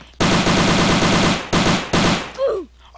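Rapid automatic gunfire from a Roblox shooter game rattles loud and close in two long bursts and a short one, followed by a brief whooshing game effect.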